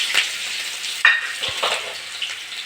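Garlic hits hot mustard oil, along with five-spice seeds and dried chillies, producing a close, fairly loud crackling sizzle with a few sharper pops and no voices.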